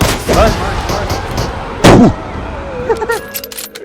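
Several sharp gunshots ring out in a PUBG Mobile match, loud broadband cracks spaced through the clip, including one heavy blast near the middle, with lighter clicks and game effects trailing at the end.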